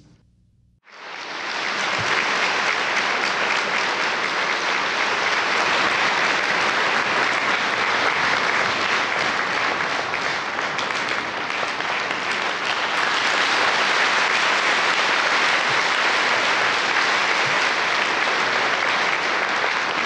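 Warm audience applause welcoming master Csinkháj on his first appearance in Hungary, steady and sustained clapping from a large crowd that begins after a brief silence and continues loud and unbroken, swelling slightly toward the end.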